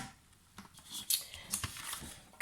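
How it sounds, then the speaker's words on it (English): Scissors snip through cardstock for a handmade stamped card, a few quiet, close crisp cuts in a short burst with no talking. "I'm going to cut the cardstock down first."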